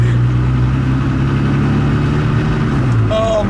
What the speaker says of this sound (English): I'm driving the Ferrari F50